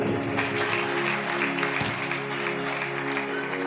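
A congregation claps along during a church sermon, a steady wash of applause that carries on evenly for several seconds with no voices over it.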